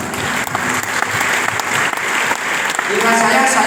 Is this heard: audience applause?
yes